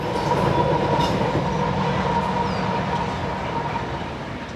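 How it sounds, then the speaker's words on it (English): A loaded eastbound BNSF coal train rolls past on the Forsyth Subdivision near Sarpy Junction, Montana, a loud steady rumble of heavy wheels on rail with a faint metallic squeal, slowly easing in level, no talking. "The train you are currently seeing is an eastbound coal load on the BNSF Forsyth Subdivision."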